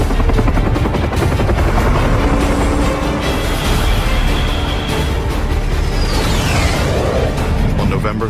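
Attack helicopters in a Vietnam War military operation, a loud continuous rotor thrum and turbine roar filling the scene, with a narrator's voice over it.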